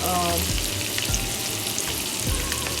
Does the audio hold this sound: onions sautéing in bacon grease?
yes